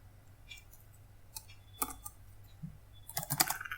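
Typing on a computer keyboard while writing Python code, heard as scattered close key clicks in short bursts with pauses, ending in a quick rapid flurry.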